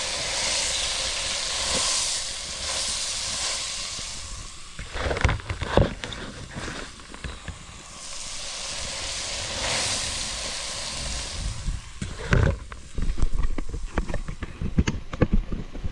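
Green onions sizzling in a hot kitchen pan, a steady loud hiss that swells and fades, broken midway by clattering scrapes and bumps of stirring.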